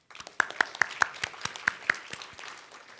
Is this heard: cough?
no